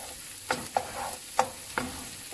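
Onion and garlic sautéing in a pan, a steady soft sizzle with a few sharp scrapes and clinks of stirring, close and moderately quiet.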